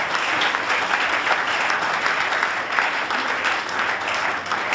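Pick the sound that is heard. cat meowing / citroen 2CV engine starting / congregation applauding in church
congregation applauding in church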